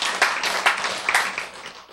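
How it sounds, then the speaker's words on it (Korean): A church audience claps along in a loud, dense burst of applause, with the sharper individual claps showing up in a rough rhythm before it fades at the end. "박수!"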